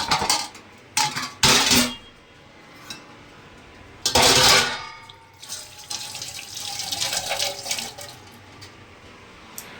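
A few dishes washed under a running kitchen tap, with bursts of splashing water, clattering pots and utensils, and a steady stream filling the sink close by.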